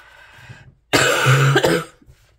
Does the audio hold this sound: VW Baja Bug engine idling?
no